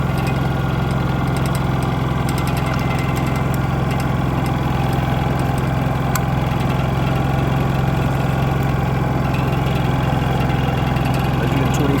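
Honda EU3000is generator idling on eco throttle, a steady, even mid-pitched engine hum with faint rattly vibration, continuous and close throughout.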